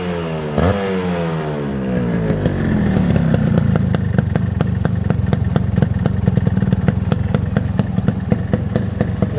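A Yamaha RX100 motorcycle engine starts and settles into a loud, close two-stroke idle with a fast, steady popping exhaust rhythm that continues throughout.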